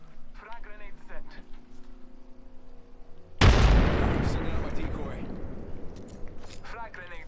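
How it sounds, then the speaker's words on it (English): A frag grenade in a first-person shooter game goes off with a sudden loud blast midway, then a long rumbling decay, after quieter game ambience with faint chatter and tones. "Frag grenade set."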